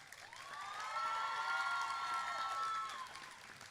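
A crowd at a college opening convocation bursts into applause and cheers for a student award recipient, a swelling wash of clapping with high whoops and shouts that builds, holds for a few seconds and then fades.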